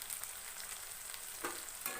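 Spices for egg chilli stirred and frying in a hot pan, a steady soft sizzle with a couple of brief scraping stirs, close and fairly quiet, with no voices.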